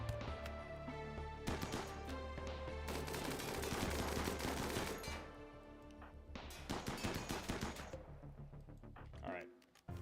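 Turret gunfire in the Rimworld video game, loud rapid bursts of automatic shots in long volleys separated by short pauses, ending with a final short burst.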